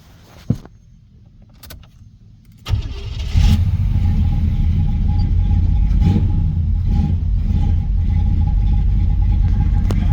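A 1990 Chevrolet Caprice engine cranks and starts after a few quiet clicks and handling noises, then settles into a steady, deep, close idle rumble.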